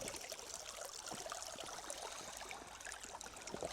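River water runs steadily as someone wades across on a wild hike toward a herd of cattle, a continuous broadband rush close by with no one talking.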